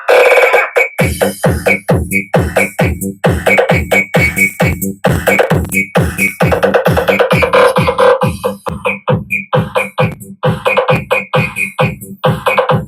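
Loud music through a D50 Bluetooth amplifier, with a punchy, steady electronic beat thumping close up, bright synth tones riding over the repeating bass hits.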